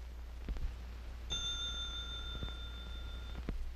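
A single bell rings for about two seconds during a reaction-time test, a clear steady tone over faint background hiss, with a few soft ticks before and after.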